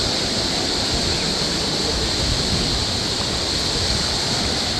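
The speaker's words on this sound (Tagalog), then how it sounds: "Ang agos ng tubig, yung waves." Ocean waves and flowing water rush at Horseshoe Beach, Bermuda, near a cave at low tide, a dense, constant roar with no breaks, loud and close throughout.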